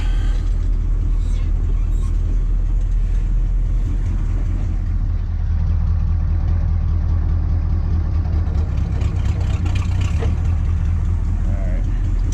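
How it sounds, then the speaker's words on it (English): A 1985 GMC 3500 truck engine runs in low gear with the rear wheels raised during brake shoe work, a loud continuous low rumble close by, with a little faint activity over it. "Let's put it into gear here and see if we hear that grind in here."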